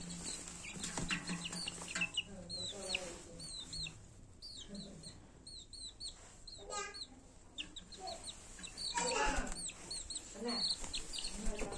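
Young chickens cluck and chirp close by in busy, overlapping bursts at feeding time, with faint human voices and rustling mixed in.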